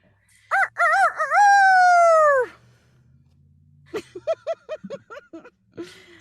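A person imitates a rooster's cock-a-doodle-doo with a loud, rising and falling vocal crow, followed by a series of shorter clucking, crowing syllables, close and alone.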